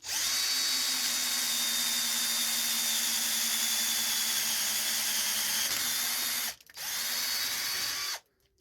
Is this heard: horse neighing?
no